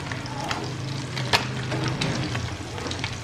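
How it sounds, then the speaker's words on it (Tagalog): Hot cooking oil sizzling and spattering in a pan while frying, a steady dense crackle with occasional sharper pops. "matalsik lang yung mantika"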